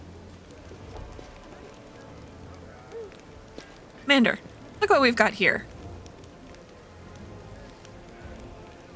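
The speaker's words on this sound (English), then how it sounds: "It's raining." Steady soft rain patters in the video game Pathfinder: Wrath of the Righteous, a constant light hiss under brief character dialogue in the middle.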